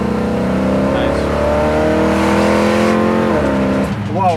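A 1969 Chevelle with a new crate engine revs and accelerates hard, a loud close engine climbing through the gears with a shift near the end while people talk inside the car.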